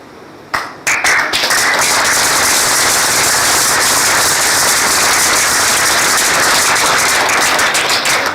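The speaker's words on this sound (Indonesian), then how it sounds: "Oke, kasih tepuk tangan" An audience at a theatre performance of the play Racun Tembakau breaks into loud, sustained applause after a couple of sharp opening claps, a dense wash of many hands close and continuous to the end.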